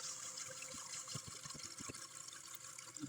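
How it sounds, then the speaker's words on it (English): Household toilet tank refilling after a repair: a continuous hiss of water running in under a scatter of small plinks and drips from the bowl, steady and close. "And now we can turn the water back on. And let that fill up."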